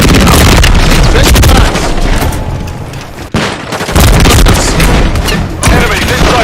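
Sniper fire and other gunfire in a shooter video game, loud and close, with sharp reports, booming blasts and near-constant shooting that breaks off briefly midway.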